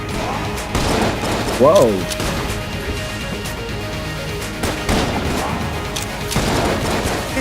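Rapid bursts of gunfire from an overpowered gun in the game Enter the Gungeon, loud cracking volleys with a quick rising effect, while a player speaks over the shots.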